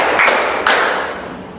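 A class of students clapping in a rhythmic classroom pattern, with two sharp group claps standing out over a loud, noisy room.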